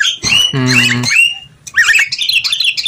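A male white-eyed buffalo myna (jalak kebo) gives loud, close harsh squawking calls, a buzzy tonal burst in the middle, then a run of chattering notes.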